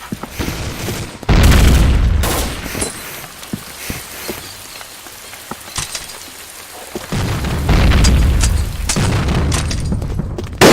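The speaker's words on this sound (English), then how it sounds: "Grenade!" A grenade goes off in a video game with a loud, deep boom, followed by scattered gunfire and rumbling debris, then a second heavy blast later, with no voices.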